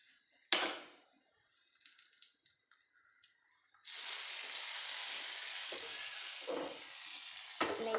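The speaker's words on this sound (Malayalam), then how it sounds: "നെയ്യടക്കം ഞാനിത് ഇതിൻ്റെ അകത്തേക്ക് ഒഴിച്ചിട്ടുണ്ട്" Hot ghee carrying fried cashews and raisins poured into a pot of banana payasam, a steady sizzling hiss that rises suddenly and holds, with a few stirring clinks and no talking.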